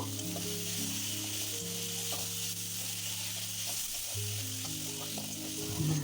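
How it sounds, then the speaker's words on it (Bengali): Potato chunks and pre-fried prawns, seasoned with salt, turmeric and cumin powder, crackle in a pan for Bengali mocha chingri. A steady close sizzle with stirring runs throughout, with faint tonal sounds underneath. "আলু আর ভেজে রাখা চিংড়ি মাছটা দিয়ে দেব, দিয়ে খানিকক্ষণ নাড়াচাড়া করব"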